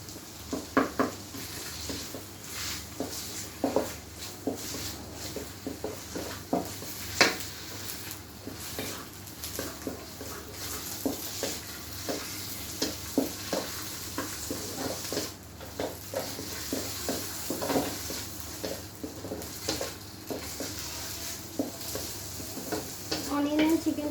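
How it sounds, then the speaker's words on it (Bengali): Chopped onion and small pieces of chicken sizzle in a hot pan for fried rice, with a steady frying hiss and repeated scraping and clicking strokes as the food is stirred, close and continuous. "অনিয়ন এবং চিকেনটা কিছুক্ষণ ফ্রাই করে নিতে হবে।"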